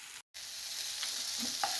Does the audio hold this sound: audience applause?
no